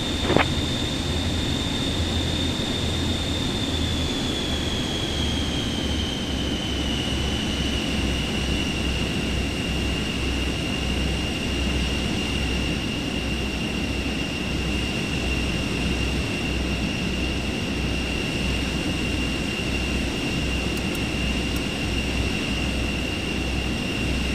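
An airliner's jet engines in cruise in Microsoft Flight Simulator 2024, a steady, loud broadband roar with a sustained whine that slowly glides lower in pitch, continuous with no voices.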